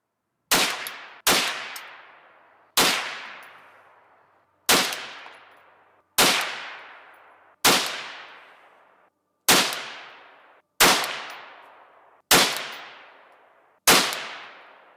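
A .22 WMR rifle fires ten CCI 30 grain hollow point rounds outdoors, each a sharp, loud crack with a short decaying echo, spaced roughly one to two seconds apart.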